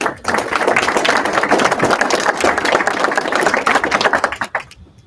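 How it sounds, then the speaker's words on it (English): Dense, steady crowd applause with rapid overlapping claps from many hands, fairly loud and close, fading out at the end. "Please give us a round of applause."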